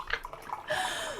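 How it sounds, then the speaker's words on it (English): A short, quiet trickle of freshly steeped tea poured into a cup, a thin rising liquid stream following a few soft clinks and breathy noises. "I'm gonna pour this next steep though, because obviously I need more."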